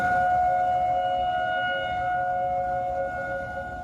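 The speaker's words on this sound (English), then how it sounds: "the eerie sound of tornado sirens going off" Tornado sirens in Omaha, Nebraska wail steadily and drone on continuously, sounding distant and eerie over a low rumble of background noise.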